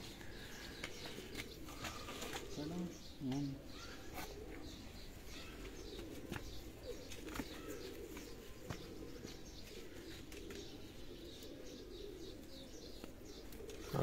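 Pigeons kept by a fancier coo softly again and again, with bursts of wing flapping and a few chirps over a steady background hum.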